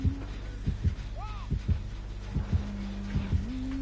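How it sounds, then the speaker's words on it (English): A racing heartbeat from the Dead by Daylight video game thumps in a steady, quick double-beat pulse over a low hum, soft and alone, with a brief eerie warble partway through. "Why can't I hear like something? My heartbeat is racing."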